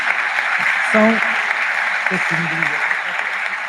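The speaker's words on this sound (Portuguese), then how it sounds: "Pedia uma salva de palmas para estas 2 meninas." Audience applause for two girls at a Catholic youth ministry gathering, a steady wash of clapping across the whole stretch, with a few voices speaking briefly over it.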